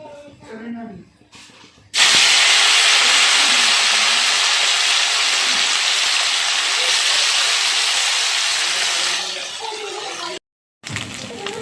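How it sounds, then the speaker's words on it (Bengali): Chenga fish dropped into hot oil in a kadai, a sudden loud, steady broadband sizzle that holds for about eight seconds before tapering off, with a person talking briefly before it starts. "এবার আমি মাছগুলো তেলের উপরে দিয়ে ভেজে নিচ্ছি"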